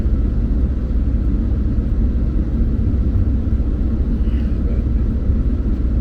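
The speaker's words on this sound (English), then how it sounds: "Now I gotta wait for these other cars to go by." Steady low rumble of highway traffic passing nearby, a continuous roar of road noise without distinct breaks.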